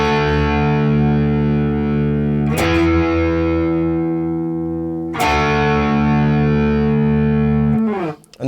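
Heavily distorted electric guitar playing long sustained chords from a rock song, loud and close, each ringing for a few seconds before the next strum.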